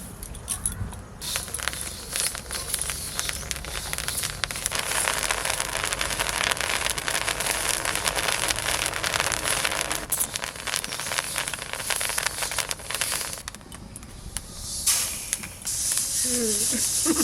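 Puffed rice (muri) roasting in hot salt in a pan during a Nabanna harvest cooking session, a steady close hissing, rustling crackle that runs nearly unbroken for the whole stretch, with brief dips, voices faint beneath it.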